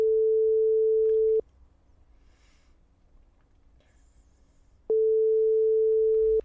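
Telephone ringback tone while redialling a dropped call: two long steady beeps, one at the start and one near the end, separated by a quiet gap, loud and clear with no talk.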